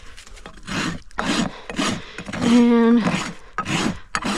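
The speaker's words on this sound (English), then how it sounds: "And I'm just going to bring down and even out these heels. Just using my rasp." Rasp filing down a horse's hoof heels, rhythmic back-and-forth strokes close up, about eight rasping passes, with someone speaking briefly over them.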